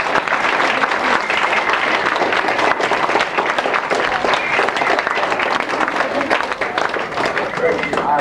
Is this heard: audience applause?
yes